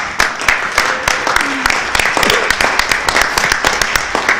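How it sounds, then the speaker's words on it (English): An audience at a city council meeting claps for a state champion high school tennis team, producing sharp, close, irregular handclaps in a steady burst with some voices mixed in. "So I think that deserves a round of applause."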